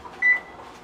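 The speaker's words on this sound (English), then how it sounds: "I'm going to heat the oven to 350 Fahrenheit" A kitchen oven's control panel gives a single short electronic beep as it is set to heat to 350 Fahrenheit, close and clear against a quiet room.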